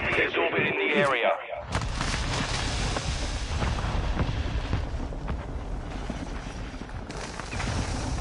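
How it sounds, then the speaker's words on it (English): Mortar strike explosions in a Call of Duty match, heavy rumbling blasts and debris rolling on for several seconds after a burst of radio chatter, loud and close over constant battlefield noise. "Hostile mortar strike incoming."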